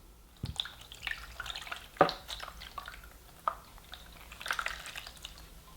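Water drips and splashes into the tray of a Rug Doctor cordless hard floor cleaner in short irregular bursts, with a few sharp plastic knocks, close by and moderately quiet.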